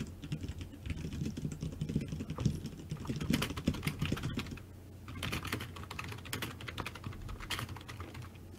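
Rapid, clattering typing on computer keyboards, several people hammering keys in dense irregular bursts that run continuously, close and fairly loud, with no talk.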